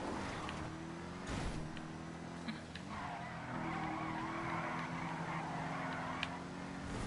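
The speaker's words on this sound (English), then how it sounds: "Oh wow, we kept it together from spinning out entirely." A car in the racing video game GTA Online skids and nearly spins out, with a sustained tire squeal over steady engine noise that runs loud and continuous throughout.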